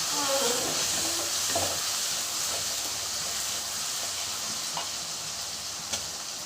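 Chicken gravy with roasted curry masala powder is stirred in a hot pan, giving a steady close sizzle with scraping spoon strokes throughout, no talking.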